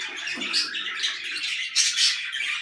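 Caged albino birds in a home breeding setup chirp and tweet in quick, high-pitched bursts, close by and fairly lively, with no talking.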